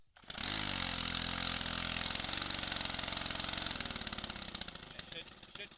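A small petrol engine with a primer bulb and choke catches and runs at a loud, rough, buzzing idle for several seconds, then sputters and pulses unevenly as it starts to die away.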